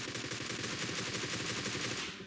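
Faint, quick gunshots from a shooting video game rattle in a dense continuous stream for about two seconds, with no talking.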